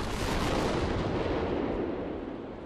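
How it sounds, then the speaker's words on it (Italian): Cannon salvo fired to celebrate a victory, heard as a loud, sustained rolling roar of booming reports that gradually fades over a few seconds, with no voices. "una salva di cannoni saluta la vittoria dei parigini"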